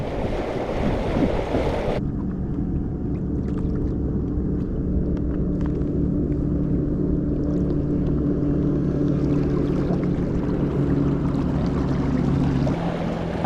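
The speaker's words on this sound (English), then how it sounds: "Boats passing by." Motorboats passing near a small pedal-drive kayak on open water, with a steady low engine rumble and droning hum holding for over ten seconds after a brief burst of splashing water noise, with no voices.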